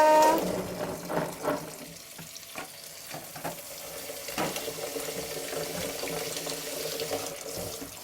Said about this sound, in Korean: 흐르는 물에 이렇게 씻어주면 됩니다